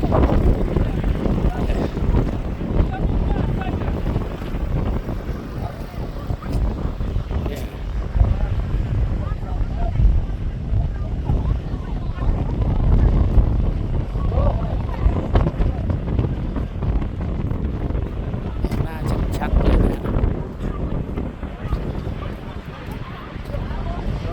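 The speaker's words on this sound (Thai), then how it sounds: "ตอนนี้ลมมาแล้ว หนาวสุดๆครับ" Strong, cold wind buffets the microphone in loud, continuous gusts at Baisha (White Sand) Lake near Kashgar, Xinjiang, with a person talking beneath the roar.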